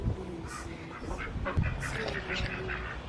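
Faint ducks quacking and honking at a distance over steady outdoor background noise, a few scattered calls.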